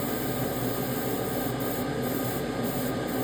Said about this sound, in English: I'm just using the air from the airbrush